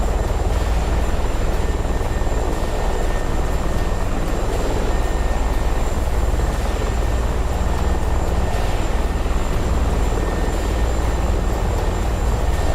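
A Ka-50 helicopter in the DCS World combat game roars with a loud, steady rotor and engine drone that stays unbroken throughout, close and dominant with no voices.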